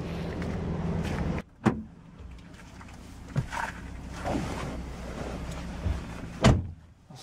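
Someone climbs back into a car during a driving-test inspection: muffled shuffling and seat movement, then sharp thuds, with a solid door slam near the end, close by and without talk.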